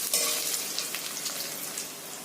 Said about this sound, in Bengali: আদা বাটাটা দিয়ে দিলাম।